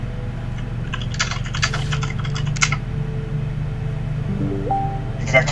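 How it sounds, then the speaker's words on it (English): Quick clattering keystrokes on a computer keyboard heard over a line, in short bursts early on and again briefly at the end, over a steady low hum. "I can hear typing on the other end."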